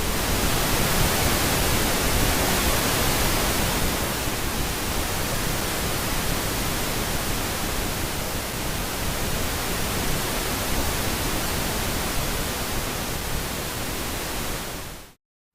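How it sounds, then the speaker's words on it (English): Steady pink noise test signal from cinema speakers, a continuous broadband hiss that holds even and unbroken for about fifteen seconds before cutting off abruptly, with no voices. "You will now hear pink noise move from the left to the right of the screen."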